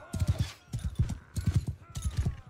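Rhythmic hoofbeats of a horse galloping in Mount and Blade II: Bannerlord, steady repeated clip-clop bursts close up with a faint game ambience, no talk.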